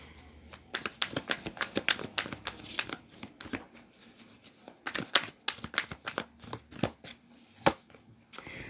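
A deck of tarot cards being shuffled by hand, a quiet, close series of uneven riffling bursts and taps, with no talk.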